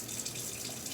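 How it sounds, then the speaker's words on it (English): Water tap running into a sink for handwashing, a faint steady hiss of flowing water with no talk over it. "Going to turn the water on."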